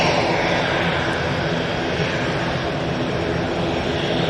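An EasyJet jet at Manchester Airport roars loudly and steadily, a broad, continuous engine rush with no pauses and no voices.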